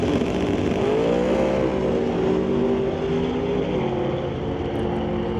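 A Firebird drag racing car in the Canada West Doorslammers, guided into the staging beams at the track, its engine idling and revving loudly and steadily, with a rising and falling engine tone throughout.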